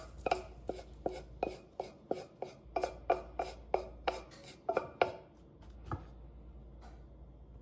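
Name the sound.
ground beef dumped from pan onto zucchini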